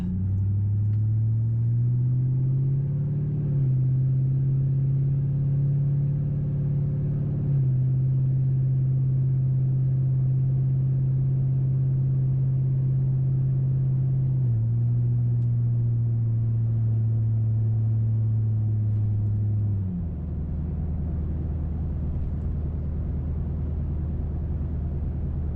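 Cabin drone inside a Crown Victoria fitted with an H-pipe and muffler delete on an ordinary drive, a steady low exhaust hum that climbs and settles through several gear changes, with no talking.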